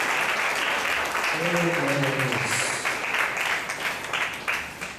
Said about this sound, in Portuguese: Aplaudam o Senhor.